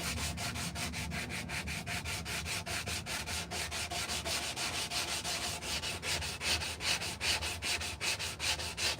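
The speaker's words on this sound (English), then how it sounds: "these are sanding blocks" Steady rhythmic rasping of a sanding block rubbed back and forth on a wooden spoon in a workshop, close up, with regular strokes and no talking.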